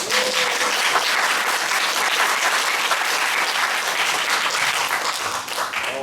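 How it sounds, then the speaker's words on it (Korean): A lecture audience at a church school retreat gives a professor warm, sustained applause, thick continuous clapping from many people at an even level throughout. "한 번 더 우리 교수님께 뜨거운 박수로"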